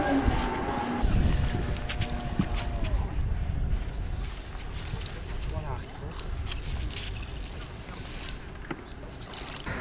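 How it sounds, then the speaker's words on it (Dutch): A remote-controlled model boat returns across the water, its small motor buzz and water noise steady throughout, with people chatting nearby and wind on the microphone. "En dan komt de boot weer terug."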